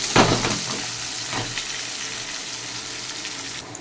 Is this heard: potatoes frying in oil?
yes